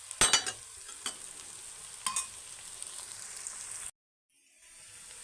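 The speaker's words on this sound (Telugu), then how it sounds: "సో అల్లం వెల్లుల్లి పేస్ట్ కూడా వేగిపోయిందండి" Ginger garlic paste frying in a pan for tomato rice, a steady close sizzle with a few louder stirring scrapes near the start, then a sudden cut to near silence before a faint hiss returns.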